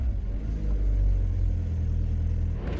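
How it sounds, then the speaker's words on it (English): A Rover 400 rolls slowly around a yard, giving off a low, steady rumble of engine and tyres that swells slightly midway, with no voices. "Moving the car around the yard,"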